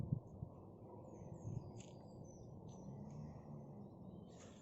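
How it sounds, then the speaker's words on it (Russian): Birds chirp and sing in a forest waking up in spring, scattered faint calls over a low, quiet background rumble, distant and intermittent. "Природа просыпается, птички поют, здорово."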